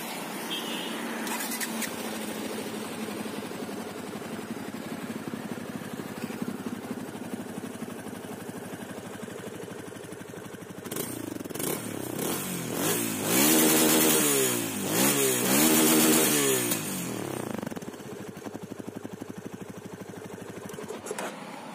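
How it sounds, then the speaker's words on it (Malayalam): A Yamaha FZ25 motorcycle engine idles with a steady, low, bassy burble up close, then revs up in several rising and falling throttle blips before settling back to idle. "നമുക്കിനി FC 250 സൗണ്ട് ഒന്ന് കേട്ട് നോക്കാം."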